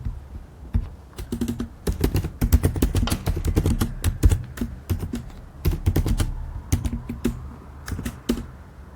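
Rapid, irregular clacking of computer keyboard keys while Java code is typed, with close, crisp keystrokes in uneven bursts and short pauses, no voices.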